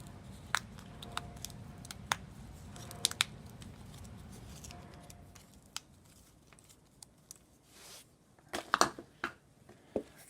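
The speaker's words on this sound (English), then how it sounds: "We're going to pop out our tokens." Cardboard tokens pop out of punchboard sheets for Funko's Marvel Battleworld board game, sharp snaps and small tearing crackles scattered irregularly over a faint rustling background, close and fairly quiet, no talk.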